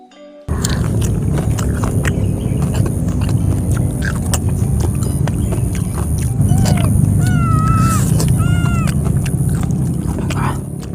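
A few short, rising meows from a cat, loud and close, over a constant sizzling and scraping background.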